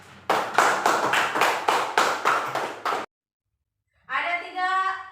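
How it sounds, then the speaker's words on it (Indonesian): A school class claps in unison in a quick, even rhythm of about nine loud claps. After a short silence, a voice speaks. "Tepuk tangan untuk kita semua."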